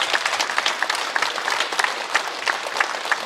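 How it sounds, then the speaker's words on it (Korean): A church congregation at a Korean prayer meeting claps in warm, dense applause, many hands at once, close and steady throughout with no talking. "우리 하나님께 영광의 박수 올려드리겠습니다"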